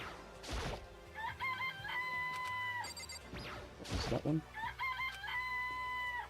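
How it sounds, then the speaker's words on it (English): A chicken clucks and crows in the video game Danganronpa: Trigger Happy Havoc, in two loud bursts over game music with sharp impacts, and a voice briefly speaks. "It's a chicken."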